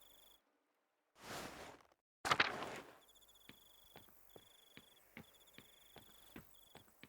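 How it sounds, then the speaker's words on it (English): Crickets chirping at night in the video game Pentiment, faint, evenly spaced chirps over quiet background after a couple of louder rustling bursts. "I can already hear the crickets outside."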